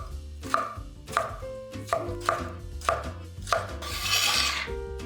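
A knife dices tomatoes rhythmically on a board, about six firm cuts at steady intervals, close up, with soft music playing underneath.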